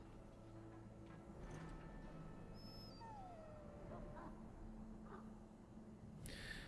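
An injured dog whimpers in the video game Dragon Age: Origins, a faint high whine rising and falling over a constant low ambient hum, with no voices.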